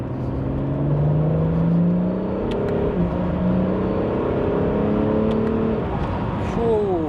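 A Japanese hybrid supercar engine revs to around 4,500 rpm, giving a loud, steady drone whose pitch rises in repeated sweeps, with a sharper climb near the end.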